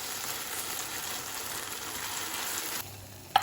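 Chicken pieces with ginger sizzle in oil in a pan, a steady dense crackle and hiss throughout, close by, easing slightly near the end before a brief clink of a utensil.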